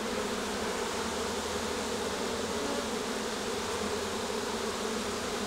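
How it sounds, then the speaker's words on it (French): Dense, steady humming drone of a huge population of honey bees swarming over a crowded hive frame full of pollen and nectar, close and continuous without pause. "Il y a énormément d'abeilles."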